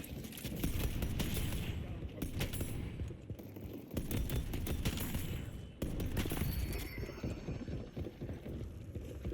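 Rapid bursts of turret gunfire crackle continuously in a video game firefight, dense and loud, broken by a few short gaps and accompanied by other chaotic combat noise.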